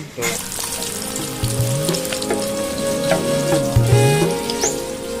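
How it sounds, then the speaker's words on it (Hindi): Tilapia fish frying in hot oil, Chhattisgarh style, a loud continuous bubbling sizzle close by with occasional pops and a few low thuds and scrapes of handling, no talking. "बढ़िया तो मछली वछली तले शुरू हो चुके हैं संगवारी।"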